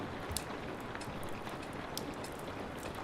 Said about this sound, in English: the rain still falls